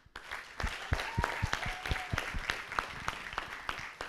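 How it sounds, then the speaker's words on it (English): At a graduation ceremony in Kampala, Uganda, a gathering claps in slow, distinct, evenly spaced beats, each hand clap sharp and separate, with a thin whistling tone drifting briefly over the rhythm at moderate distance. "final applause and hand clap for each one of us"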